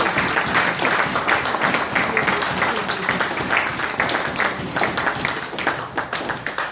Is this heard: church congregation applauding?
yes